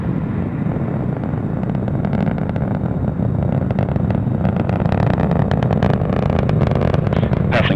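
An Atlas V rocket with its RD-180 engine roars in supersonic flight, a dense continuous low rumble with crackling texture, steady and loud throughout with no talk.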